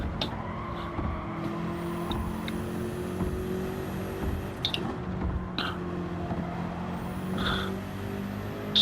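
Race cars in Gran Turismo 7, including a BMW M6 and a Toyota Supra, engines droning steadily at a moderate level with rising gear-shift whines and a few sharp tyre or contact noises.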